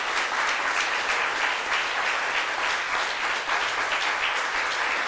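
Studio audience on a live Turkish daytime talk show bursts into steady, dense applause, loud and close, filling the whole stretch without pause.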